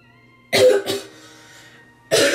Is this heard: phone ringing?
no